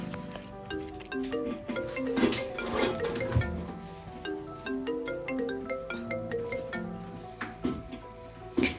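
A melodic phone ringtone plays on and on, its tune looping steadily at moderate volume with no one speaking.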